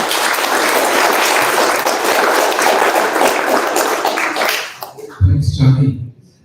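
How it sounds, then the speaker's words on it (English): A live audience breaks into sustained, dense applause at a discussion and Q&A event, steady for about five seconds before tapering off, followed by a brief burst of voices and chuckles. "So I think we should give them a round of applause."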